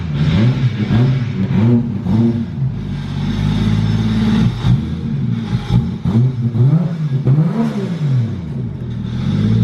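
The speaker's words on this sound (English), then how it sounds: "It doesn't rev well right now because I took the TPS out of it." A car engine with its throttle position sensor removed revs repeatedly, rising and falling in pitch with uneven, stuttering throttle blips, loud and close.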